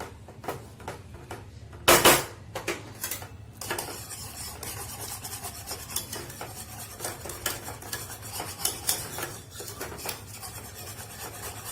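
Agar agar milk pudding mixture stirred continuously in a pot, a steady scraping and rubbing of utensil against metal with one louder clatter near the start, over a low simmering hum.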